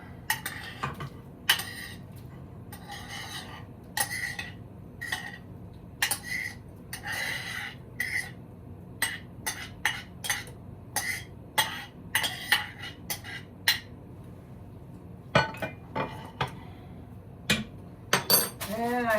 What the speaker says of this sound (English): Then I'm going to add the corn